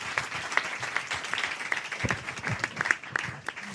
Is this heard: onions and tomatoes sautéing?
no